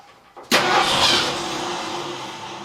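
A 1972 Ford F100 engine with a freshly rebuilt carburetor cranks briefly, then catches and fires up, settling into a loud, steady, close running rumble with no voices.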